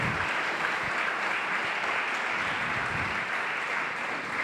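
Church congregation applauding the Lord during a Portuguese-language sermon, a continuous, even hiss of many hands clapping at moderate loudness, somewhat distant.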